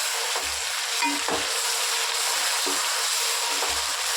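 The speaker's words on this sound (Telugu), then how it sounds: "బాగా ఫ్రై చేసుకున్నాం అది పేస్ట్ కూడా ఇది మంచిగా వేయించుకున్నాం ఎర్రగా" A paste of green chili, mint, coriander, ginger and garlic fries with onions in oil, giving a continuous close sizzle broken by soft scraping stirs of a spoon against the pan.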